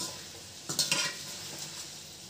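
Chicken kheema balls, made from finely ground chicken, frying in oil in a pan while being stirred, giving a steady hiss with a brief cluster of louder scraping stirs near the middle; no talking.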